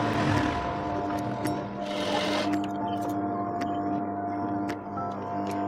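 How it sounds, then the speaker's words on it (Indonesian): A sewing machine runs steadily as it stitches the edge of a travel prayer mat, giving a close, continuous mechanical whir with small ticking clicks and a brief shift in pitch midway. "Kemudian akan kita jahit tepinya."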